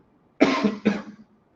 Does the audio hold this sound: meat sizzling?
no